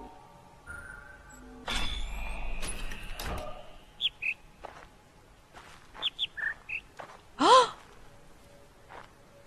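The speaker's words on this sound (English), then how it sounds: "The only time I've ever heard a bird." Scattered bird chirps in the video game The Witness, brief high notes spaced across quiet ambience, with a louder breathy sound near the end.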